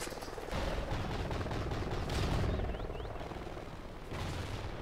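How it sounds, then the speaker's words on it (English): Helicopter in Call of Duty Ghosts multiplayer on the Prison Break map: a steady loud rotor roar under a dense wash of gunfire and rumble, with a couple of short whistling sweeps midway and no voices. "So they've got air superiority chopper"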